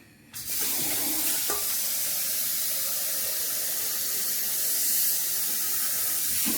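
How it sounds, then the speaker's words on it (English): Water runs from a tap into a cooking pot in a kitchen, a steady close hiss and splash that starts abruptly and continues without a break. "Then I've got to put some water in it."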